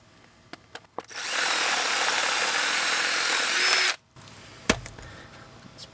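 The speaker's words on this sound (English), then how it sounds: "I'm actually going to drill it just far enough to where this will seat in there flush." A power drill bores a hole for an outdoor faucet's CPVC pipe, running in one loud, steady whine for about three seconds after a few clicks and knocks, then cutting off abruptly before a final clunk.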